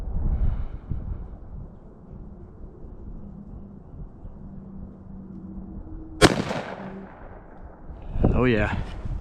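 A Stevens 301 .410 shotgun fires a single sharp, loud shot at 40 yards outdoors, cutting through a quiet stretch, with a voice talking briefly before and after.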